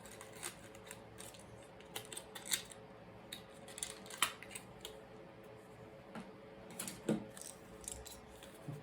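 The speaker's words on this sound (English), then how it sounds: "I need like a scissors to cut open this." Quiet snipping and crinkling sounds with scattered clicks, scissors cutting open plastic camera packaging for a Sony ZV-E10, close by with no talking.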